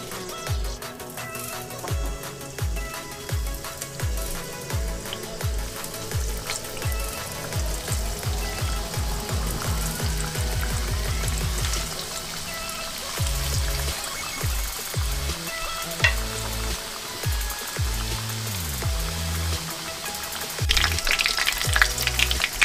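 Cornflake-coated chicken popcorn pieces fry in medium-hot oil, giving a steady, close crackling sizzle with bubbling throughout, plus occasional low knocks and stirring scrapes; no one speaks.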